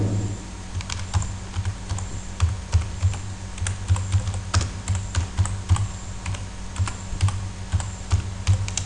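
Text is typed on a computer keyboard in quick, uneven bursts of clicking keystrokes, close and clear for several seconds without speech.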